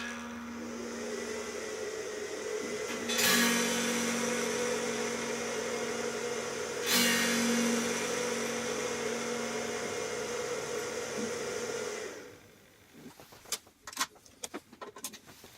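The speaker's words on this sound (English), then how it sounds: "This is the noise of the Torpedo Captor." Cooling fan of a Torpedo Captor reactive load used with a guitar amp: a steady broadband whir with a low hum, close up, swelling briefly twice, then stopping and giving way to a few scattered clicks and handling knocks.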